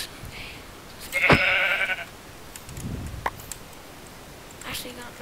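A sheep in a video game gives one clear, close bleat, and a fainter bleat follows a moment later. Soft clicks and a voice sit around them.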